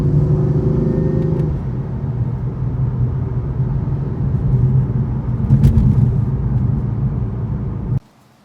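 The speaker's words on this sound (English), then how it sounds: "that's what it's like to drive a BMW M4" A 2015 BMW M4 with a dual clutch transmission drives along, its engine rumbling loud and steady and rising slightly in the middle, before cutting off abruptly at the end.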